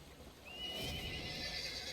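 A horse mount in the Neverwinter video game gives one rising, drawn-out whinny, loud and close, over soft game ambience.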